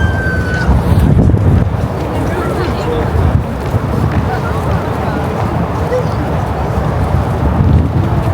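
Strong wind gusting outdoors in a Tokyo city setting, a loud steady roar with wind buffeting the microphone throughout and voices faintly mixed in.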